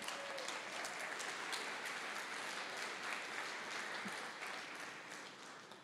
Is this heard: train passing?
no